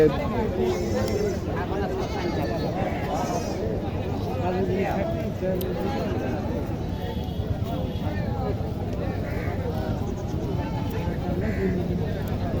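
Goats bleating at a busy livestock haat in Naogaon, several bleats scattered through a dense crowd hubbub with people talking throughout.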